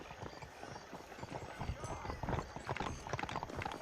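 Rapid clip-clop of horse hooves in Red Dead Redemption, a dense, galloping patter kept up throughout at a close, moderate level, with characters talking over it.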